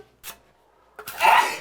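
A single loud sneeze indoors during a home repair job, with a short breathy intake before the sharp burst, and no talking.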